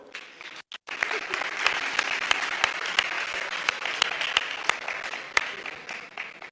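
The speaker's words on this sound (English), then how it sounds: "Big applause for Nikolaya." Audience applause at a livestreamed pitch event in Sofia, a steady dense clapping with sharp individual claps standing out, after a brief drop near the start, continuing at moderate loudness throughout.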